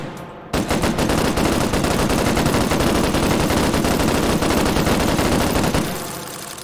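Hand-crank Gatling gun fired in the VR game H3VR, a sustained rapid stream of shots lasting about five seconds at close range before tapering off, with no speech.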